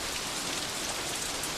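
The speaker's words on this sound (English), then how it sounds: "The rain here seems to be on a regular cycle." Steady rain falls in a video game scene near a tunnel and pagodas, a dense, even hiss of drops on surfaces with no pauses, fairly loud and alone.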